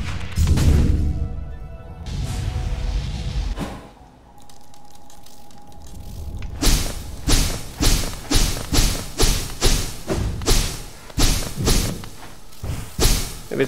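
A destroyed structure crumbles in the Hollow Knight video game: an early heavy thud and rumble, a quieter stretch, then a long run of loud, evenly paced thumps and cracks like debris crashing down.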